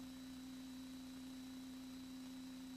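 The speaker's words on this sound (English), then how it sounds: "The tuning fork essentially produces a perfect sine wave." A struck tuning fork ringing with a pure, steady sine tone, faint and unwavering over a low hum and background hiss, with no voices.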